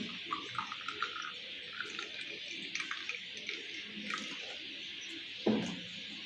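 Water is poured into a glass holding orange pulp: a faint, steady trickling pour with small drips, and a brief clink near the end.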